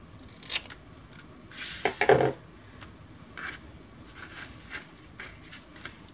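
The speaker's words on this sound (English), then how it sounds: "I'm going to go ahead and just trim this off." Scissors snip through card stock in a few crisp cuts during a stamping card-making project, the loudest burst of cutting in the middle, close and otherwise quiet with no talk.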